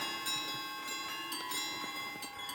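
Several Dufour pocket watches chime together in synchronicity, bright overlapping bell-like tones ringing steadily with a few soft clicks, close and sustained throughout.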